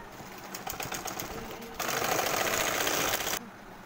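Rapid mechanical stitching of a sewing machine sewing a child's fotua shirt sleeve, running in short bursts then a longer faster run before stopping abruptly, close and clear.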